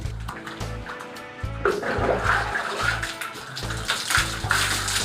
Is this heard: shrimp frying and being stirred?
no